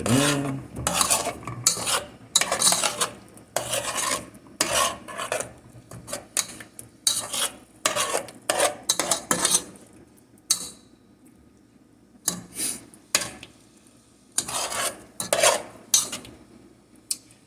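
A utensil stirs spices into shrimp in a pan, with repeated close scraping and clinking strokes against the metal in bursts, followed by a short pause before more rhythmic stirring.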